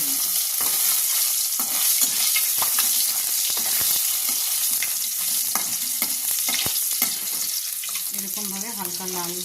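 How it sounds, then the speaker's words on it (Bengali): Paneer fries lightly in vegetable oil in a kadai with a loud, continuous sizzle, broken by scraping stirs and occasional clinks, and a voice briefly comes in near the end. "এবার পনিরটাকে আমি হালকা ফ্রাই করে নেব।"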